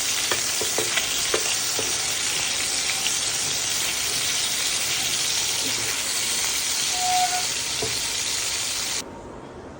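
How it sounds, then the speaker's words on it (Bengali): Fish frying in a pan gives off a steady, loud, close sizzle with scattered crackles and pops. The sizzle keeps up for about nine seconds, then drops to a quieter hiss, and no one speaks. "এখন মাছটা ভাজি করে নিব।"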